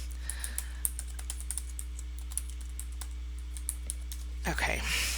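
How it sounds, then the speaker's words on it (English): Quick, light clicks of typing on a computer keyboard come in an irregular patter over a low hum, followed by brief rustling at the end. "I'll just type it in the chat."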